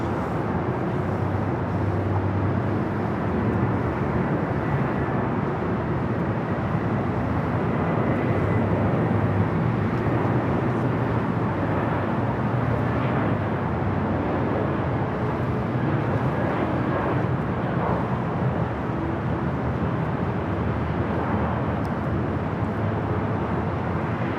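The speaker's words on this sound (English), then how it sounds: "our next arrival is a Delta A319. Flight coming in from Portland," A Delta Airbus A319 arriving at LAX from Portland, Oregon, a steady, loud and even jet engine rumble holding constant for the whole stretch with no voices.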